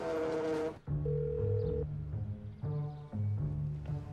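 A telephone rings with repeating electronic tones in short bursts, and nobody picks up. A brief sound is heard just before the ringing starts.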